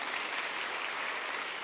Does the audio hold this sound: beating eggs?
no